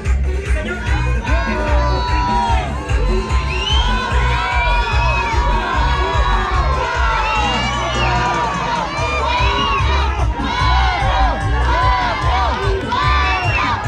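A crowd at a dance contest in Mitla in 2019 cheers loudly for a dancing couple, with shrill whoops, children's shouts and excited voices layered over a continuous roar that never lets up.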